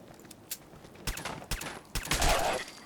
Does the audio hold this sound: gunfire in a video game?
yes